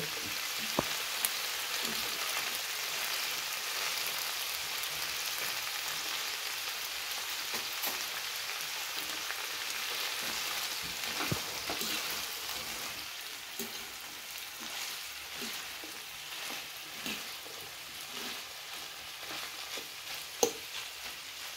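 Vegetables with dried fish frying and being stirred in a pan, giving a steady, dense sizzle throughout with occasional scrapes and small taps of the utensil, close and continuous.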